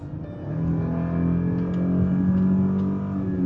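Mercedes E320 S211 estate running on LPG accelerates at full throttle, its engine note swelling into a steady rising drone with layered harmonics, heard from inside the cabin, loud and continuous with no speech.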